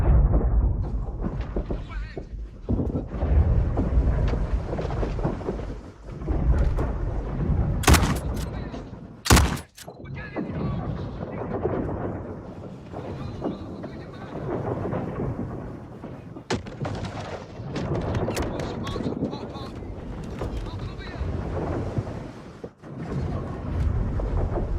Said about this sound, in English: There's a dude shooting, but I can't see him.